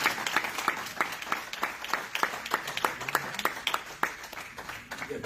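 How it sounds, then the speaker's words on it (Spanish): A church congregation claps in a dense, steady burst of applause, many hands beating together for about five seconds with no voices standing out. "Si va a aplaudir, apláudale más fuerte."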